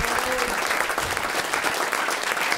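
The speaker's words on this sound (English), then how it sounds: "Can we have a big round of applause for our very special guest, Mr. Nick Mason, ladies and gentlemen" A live comedy podcast audience greets guest Nick Mason with a loud, dense round of applause that stays steady and close for its whole length.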